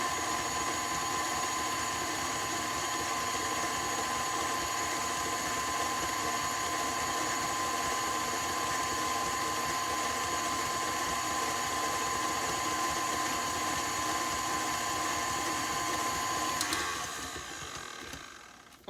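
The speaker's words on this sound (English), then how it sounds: "And start blending." A blender whirs continuously at high speed through sweetened condensed milk, a loud even mechanical whine that holds steady and then winds down near the end.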